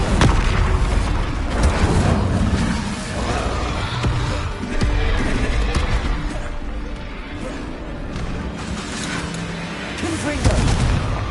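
Repeated booming spell explosions from Bombarda and Confringo in the Hogwarts Legacy video game, loud heavy blasts and crashes layered over one another continuously, with game combat noise filling the background.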